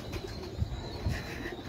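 A pigeon on a Karachi rooftop gives two soft, low coos a moment apart, close but quiet over faint background noise.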